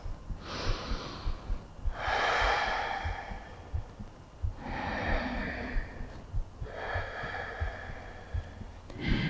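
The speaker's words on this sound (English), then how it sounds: "3 breaths here." Slow, deep breathing held through a yoga pose, several long airy inhales and exhales in a steady rhythm, close to the microphone with no talk.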